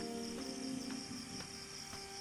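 Crickets chirp in pitch darkness at night, a steady high trill pulsing in regular bursts, moderately faint and continuous, with no voices.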